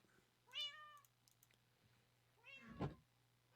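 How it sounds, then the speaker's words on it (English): Minecraft cats meowing in the video game, two separate rising-falling meows about two seconds apart, the second louder and closer, over a faint steady background hum. "I have cats. You're all cute and all, but you're loud."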